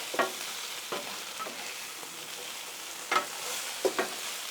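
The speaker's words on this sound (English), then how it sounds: "you want to raise that dome up and stir them up" Potatoes fry on a Blackstone griddle under a raised dome, a soft steady sizzle broken by several scraping stirs of a spatula spaced a second or so apart.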